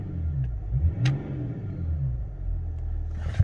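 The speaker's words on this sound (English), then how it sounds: "I'll give it a very good rev." A 2003 Range Rover L322 TD6 diesel engine rumbles low and steady, rising in a couple of revs before settling back to a throaty idle.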